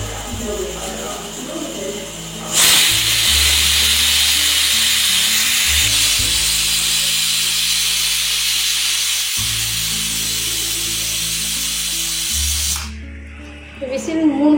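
Pressure cooker in a home kitchen, a loud sustained hissing whistle of escaping steam lasting about ten seconds with a low hum underneath, then cutting off abruptly.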